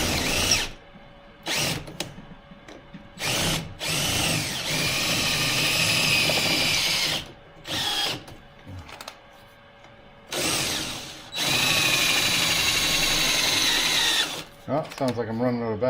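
Cordless drill boring into metal while installing the windshield of a 1976 BMW 2002, running in several bursts of whining grind separated by pauses, close and loud, slowing toward the end as the battery weakens.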